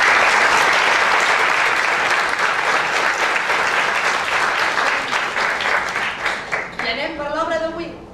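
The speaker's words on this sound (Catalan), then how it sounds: "un fort aplaudiment per l'Enric Gil i Bas." Loud, dense theatre applause for Enric Gil i Bas at a staging of A Midsummer Night's Dream, many hands clapping steadily before a voice begins speaking over the fading claps near the end.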